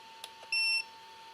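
A single short electronic beep from an Arrma Vorteks 223S RC car's speed controller, clear over a quiet hum and a couple of soft clicks.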